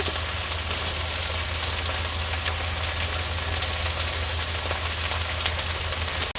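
Ginger and garlic paste frying in a pan, a steady close sizzle with a low constant hum underneath, unbroken for several seconds.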